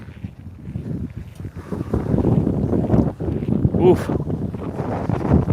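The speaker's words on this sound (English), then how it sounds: "The wind. Wild." Strong gusty wind roars and buffets the microphone outdoors, rising and falling in loud bursts, with a brief exclamation from a person.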